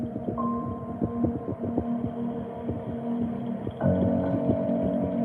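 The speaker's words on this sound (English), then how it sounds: "Emmett, thank you for the heartbeat." A heartbeat sound effect played during a live Twisted Tales stream, thudding in a steady throbbing rhythm over a constant low hum that grows slightly louder near the end.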